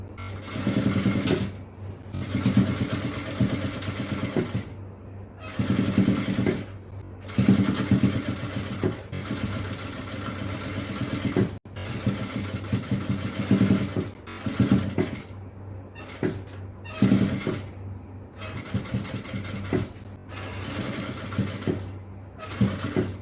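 A tailoring sewing machine stitches puff shorts in repeated bursts, each a few seconds of fast mechanical whirring separated by short pauses, close and moderately loud.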